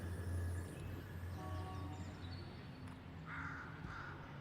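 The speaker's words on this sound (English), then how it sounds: "I can't hear those crows without thinking that's a shared Half-Life sound effect" Crows caw in a few harsh, scattered calls as a sound effect in the video game Deadlock, set over a steady low rumble of game ambience.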